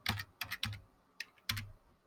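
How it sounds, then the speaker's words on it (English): Light, uneven keystrokes on a computer keyboard, a handful of soft clicks with pauses between them, close and quiet with no talk. "So if I start typing in here"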